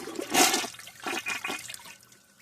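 A 1995 Mansfield Alto toilet flushes in a brief, close rush of water that surges, breaks into a few gurgling pulses and trails off as the flapper shuts.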